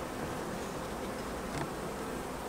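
Honeybees from an opened hive drone in a dense, continuous buzz, steady and moderately close, with no voices.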